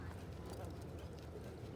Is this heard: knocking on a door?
no